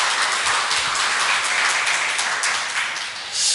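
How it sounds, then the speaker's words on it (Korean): A church congregation at a Korean Sunday service claps warmly for a deaconess after her sung hymn. The applause is a loud, dense, sustained patter that holds steady, then swells briefly near the end. "우리 신희철 권사님에게 큰 격려의 박수 부탁드립니다"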